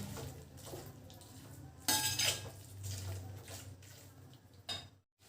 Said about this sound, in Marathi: आता हे जे काय आपण तळून घेतलेले सोयाबीन आहे ते यामध्ये टाकून द्यायचे आहेत आपल्याला असं छानपैकी हलवून घ्यायचं